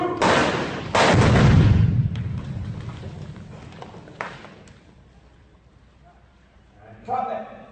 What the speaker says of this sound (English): firing their blasters with explosions going off left and right